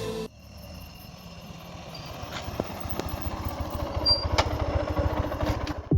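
A motorcycle engine runs steadily during a beginner's riding lesson, with dense low rumble and mechanical clatter and a few sharp clicks over roughly six seconds, no talk.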